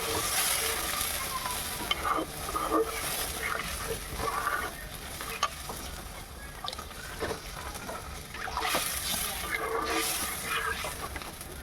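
Water poured into frying spices for a mung dal fritter curry with pumpkin and potato, hissing and sizzling steadily, with stirring scrapes and bursts of louder sizzle rising and falling.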